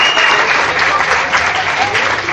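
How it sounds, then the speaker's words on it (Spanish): Loud, close applause from the crowd at an amateur boxing event, a dense continuous clatter of clapping filling the whole moment. "Vamos a brindarles un fuerte aplauso"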